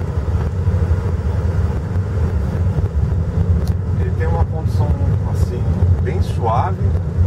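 A JAC T5 crossover with a 1.5 flex-fuel engine of 125 horsepower drives through city streets in São Paulo, giving a steady low engine and road rumble. Brief higher sounds cut through the drone near the end.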